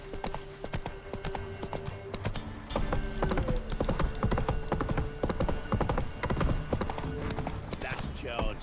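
Hooves of a horse galloping in The Witcher 3: Wild Hunt, a rapid steady clip-clop mixed with game effects and a brief neigh, while voices talk over it.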